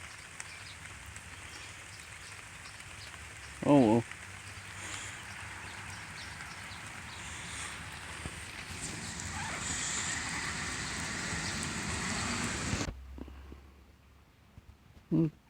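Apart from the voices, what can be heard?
rain falling outdoors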